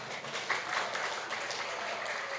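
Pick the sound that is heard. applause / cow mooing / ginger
applause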